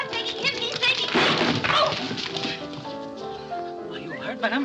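A dog in a 1934 comedy-mystery film scene barks and whimpers in short bursts, mixed with people talking and a music score.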